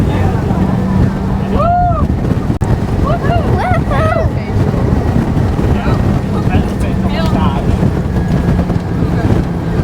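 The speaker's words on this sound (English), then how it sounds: "Very windy here." Strong wind on sand dunes buffets the microphone in a constant roar, with faint voices and whistling tones heard briefly through the rush.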